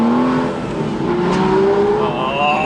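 An Aston Martin V12 Vantage S Roadster engine revs hard and loud, its pitch climbing in a sustained roar over under three seconds, with no voices.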